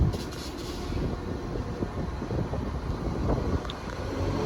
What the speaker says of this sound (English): the next train to depart will be the 1424 Transport for Wales service to Maesteg